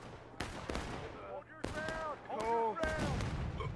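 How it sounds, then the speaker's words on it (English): Musket fire during a shootout in War of Rights on the Crecy's Cornfield map: several sharp, separate shots, some close and some farther off, mixed in with shouting voices. "Some of them are actually getting some shots off at least close."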